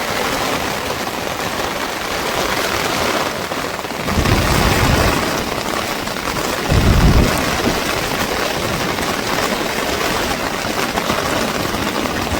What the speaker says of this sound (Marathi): आता आम्ही चाललोय घरी आणि फुल पाऊस आहे